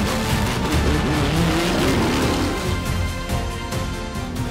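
Racing cars at WRT's qualifying race getting back up to speed after a red-flag stoppage, engines roaring loudly and continuously with some tyre noise, heard close and steady without speech.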